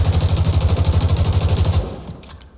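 A rapid-fire weapon in the Spectre Divide shooter game fires a loud, unbroken burst of about twenty closely spaced shots, then cuts off and leaves a short fading tail.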